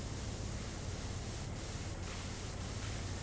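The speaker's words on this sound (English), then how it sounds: "it would be rude not to start spraying all of this, including the pillars" In the PowerWash Simulator video game, a pressure washer sprays in a steady, dense hiss across walls and pillars, loud and continuous, with a few brief dips in the spray.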